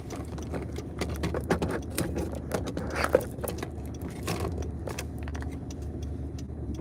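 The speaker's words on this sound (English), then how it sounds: "Dude, you guys hear the car? It is struggling." A struggling car engine labors while driving on a delivery run, a continuous low rumble with rattling and irregular surges, fairly loud and close inside the vehicle.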